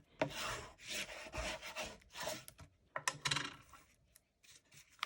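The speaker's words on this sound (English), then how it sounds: "And I'll just burnish this all down." Paper and cardstock layers of an autumn pyramid mini album being burnished flat by hand, a close series of dry rubbing and scraping strokes in irregular bursts with short pauses, alone without talk.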